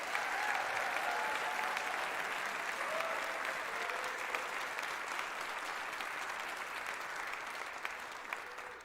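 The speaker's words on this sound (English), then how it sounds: "please still give Jack the same round of applause and energy we would have given to the senator." Sustained audience applause at a faith-focused interfaith evening convening, a dense, steady wash of many hands clapping that holds at an even level throughout and tapers only slightly at the end.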